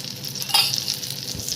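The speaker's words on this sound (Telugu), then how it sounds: "మనము దోశ వేసాము. ఇప్పుడు నూనె వేసుకుందాం" Wheat flour dosa sizzles steadily in oil on a hot pan, a close, bright frying hiss with a brief louder crackle as the oil hits the edges, and no talking.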